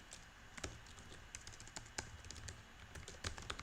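Steady typing of code on a computer keyboard, a close, continuous run of quick soft key taps with irregular rhythm over low room hum.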